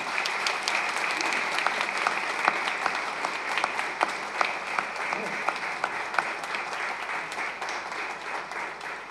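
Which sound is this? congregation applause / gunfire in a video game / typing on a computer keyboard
congregation applause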